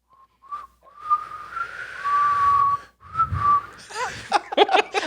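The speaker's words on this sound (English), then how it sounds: "Apparently, whistling into a microphone is hilarious when you're stoned." A person whistles a wavering high tune close into a microphone, with sustained notes and pauses, ending in a quick burst of rapid chirpy trills.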